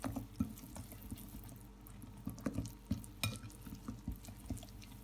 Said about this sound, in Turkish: unumuzu yavaş yavaş ilave edip hepsini karıştıralım